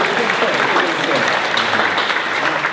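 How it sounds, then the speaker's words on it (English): Audience applause at a startup accelerator pitch night, a steady, even roar of many people clapping throughout, with no break or change in intensity. "Let's give him a round of applause."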